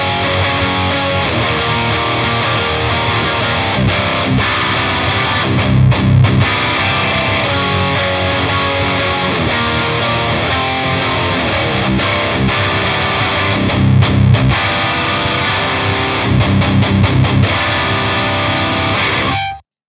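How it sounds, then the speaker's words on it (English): Loud, crunchy distorted electric guitar, a Mozer Chariot Mono played from the bridge humbucker, thick chugging chords and riffs running continuously with no talking. "this is the bridge pickup on the normal humbucker voice. It sounds something like this."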